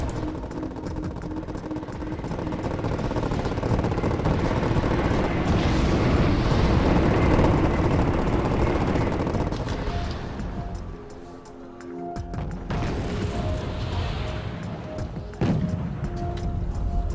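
Tank battle in Wargame: Airland Battle, with dense, continuous rumbling explosions and gunfire that swell through the middle, briefly thin out, then return with sharp bursts and steady engine drone.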